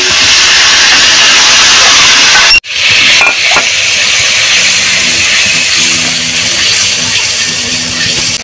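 Ground paste of cloves, cardamom, garlic, onion, cumin and garam masala drops into a hot pan, cutting off one loud hiss with a sharp burst that then settles into a strong, close, steady sizzle with stirring.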